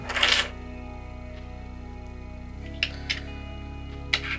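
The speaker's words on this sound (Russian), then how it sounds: "Погружаем эти монеты в раствор." Copper coins clink as they drop into a soap cleaning solution: a bright cluster of metallic impacts at the start, then a few separate faint clinks later over a steady low hum.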